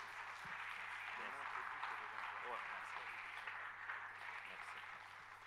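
A church congregation applauds to welcome Pastor Thompson, a faint, steady wash of clapping heard from a distance with a low hum beneath.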